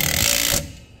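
Impact gun tightening square-headed bolts on a step fitted under a 2023 Ford Ranger: a brief, loud, rattling mechanical burst lasting about half a second, then quickly dying away.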